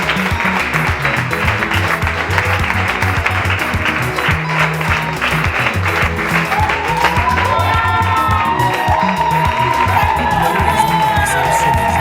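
Applause and cheering from a crowd at a civil wedding ceremony as the groom enters, dense clapping mixed with shouts and whoops, with a voice and some high tones rising over it toward the end.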